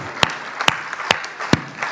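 At a Hindi poetry recitation of Veenit Chauhan's verse, a handful of sharp, evenly spaced hand claps ring out, four distinct strikes over quiet background rather than a full ovation.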